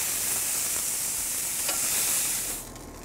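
Lamb cubes brown in a frying pan with a loud, close, continuous sizzle and hiss, a brief stir or scrape midway, and the sizzle drops away sharply near the end.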